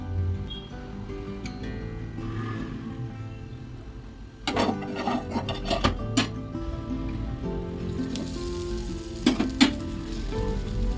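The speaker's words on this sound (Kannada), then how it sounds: "ಹಂಚು ಕಾದಾದ್ಮೇಲೆ ನಾನು ದೋಸೆನ ಹಾಕೋತಾ ಇದ್ದೀನಿ" Green gram dosa batter sizzles on a hot griddle with a steady, close frying hiss, broken by a few sharp metallic clinks and scrapes of a utensil against the pan.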